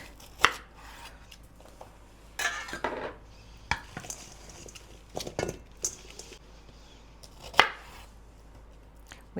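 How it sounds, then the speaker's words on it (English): A knife halving Brussels sprouts for a sheet pan pork tenderloin dinner: crisp, close chopping knocks that come in irregular bursts, with short pauses between, no voices. "And we're going to cut these Brussels sprouts in half."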